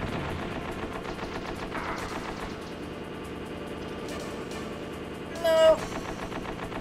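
Rapid gunfire in the stealth game Metal Gear Solid rattles steadily and moderately loud throughout, with a sharp louder burst near the end; a player briefly speaks over it.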